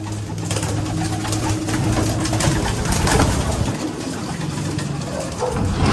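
A flock of homing pigeons let out of a loft cooing steadily and close by, with a constant rush of background noise and no talk.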